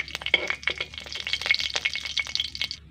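Panch phoron, a dry red chilli and a bay leaf hit hot oil as the tempering for a vegetarian pumpkin-leaf stem chorchori. They crackle and sizzle loudly and steadily with sharp spitting pops, and no one speaks.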